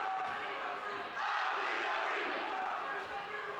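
A high school basketball crowd at a boys' game chants together in a gym, a broad, steady roar of many voices heard from a distance.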